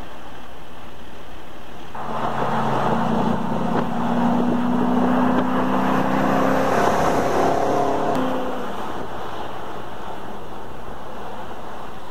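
A Dodge Charger fitted with a Viper hood and racing stripe cruises along a highway, its engine and road noise swelling from quiet into a steady drone with tonal whine for several seconds before fading back down.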